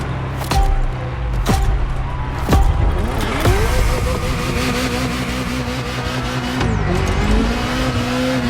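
A Ferrari F40 supercar engine in The Crew Motorfest racing game, loud and close, revving and shifting through gears with rising and falling pitch, sharp bursts and tire squeal, alone without talk.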